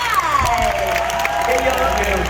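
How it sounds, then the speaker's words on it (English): Convention audience at Liverpool Comic Con applauding and cheering the Cobra Kai cast, a steady dense wash of clapping with crowd noise and a voice talking over it throughout. "Please give a round of applause"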